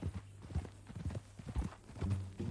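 Horse hooves clip-clop in the video game Red Dead Redemption 2, an uneven run of soft thuds at a walking pace, fairly quiet, with low game ambience behind them.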